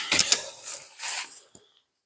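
A socket wrench loosens a car wheel's lug nut during a tire swap, giving a couple of brief close ratcheting clicks and creaks, then a single sharp tap before silence.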